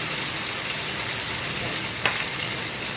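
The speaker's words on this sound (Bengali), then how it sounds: "ধনে জিরে গুঁড়ো দিচ্ছি, টমেটো বাটা দিচ্ছি।" Chilli powder, coriander-cumin powder and tomato paste frying in a pan for a Bengali papad curry, a steady close hiss of sizzling with one brief stirring knock.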